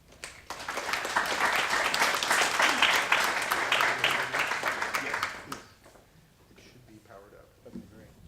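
An audience applauds to welcome a speaker at a Parsons The New School talk, steady clapping for about five seconds that fades, then brief quiet talk follows.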